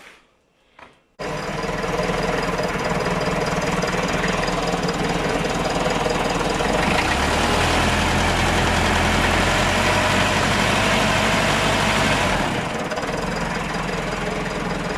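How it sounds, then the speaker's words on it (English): A Yale forklift engine with a new starter motor starts and settles into a loud, steady idle with a knocking rumble that holds for about eleven seconds, then drops off slightly near the end. "It's all back together, new starter motor, and it's running."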